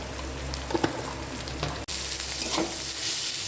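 Carrot and capsicum fry in oil with salt and turmeric, a steady close sizzle with scattered stirring clicks, briefly cut off by a sharp dropout before the hiss carries on.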